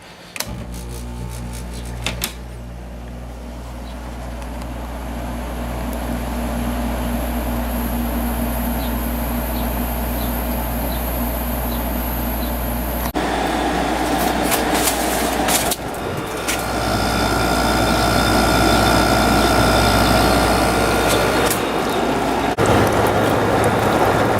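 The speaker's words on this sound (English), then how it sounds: "now we're gonna have 3 Matsushita compressors running down here" Three Matsushita air conditioner compressors running together, a steady loud low hum with a constant whirring drone and faint rattles, growing slightly louder partway through.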